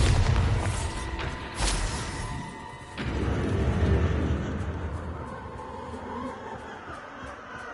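Bombarda blasting spell explosions in a wizard video game: several deep booming blasts over rumbling game ambience, the first ones strong and close, then a sharp burst around the middle followed by a fading roar.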